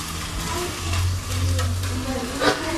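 Chopped ivy gourd sizzles steadily in hot oil for a Telugu dondakaya fry, with continuous crackling and an occasional scrape of stirring.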